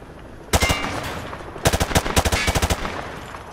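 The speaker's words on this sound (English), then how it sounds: "Grab that weapon off the table and fire at the targets behind you." Bursts of video-game gunfire from Call of Duty Modern Warfare 2 at a shooting range: a single burst, a pause, then a longer string of sharp rapid shots, loud and with no talk.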